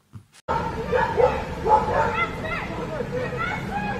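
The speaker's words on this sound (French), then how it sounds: "on entend un chien aboyer" A dog barks repeatedly at close range, mixed with shouting voices and a commotion of people talking over it.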